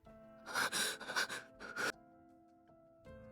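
A woman breathes heavily and intensely in a game scene, a run of loud gasping, panting breaths over about a second and a half, then quiet with a soft background tone.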